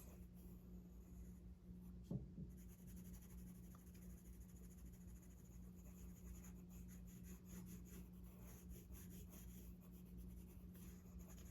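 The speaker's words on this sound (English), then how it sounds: "Then I'm going to start shading around the outside of my iris." Pencil shading on paper around the outer edge of an iris in a self-portrait drawing, a soft continuous scratchy rubbing close up with a steady low hum underneath and one brief tap.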